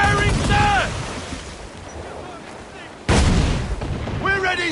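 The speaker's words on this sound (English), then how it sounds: "They are firing, sir!" Ship cannons boom in Assassin's Creed IV Black Flag during a naval battle, with two heavy blasts and rumbling decay, heard under shouting crew voices and sea noise.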